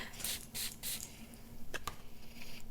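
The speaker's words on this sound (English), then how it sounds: "So let's give this a spray, see how it smells." A Dossier fragrance bottle is sprayed three times in quick succession, short close hissing bursts, followed by faint clicks and handling of the bottle in a quiet room.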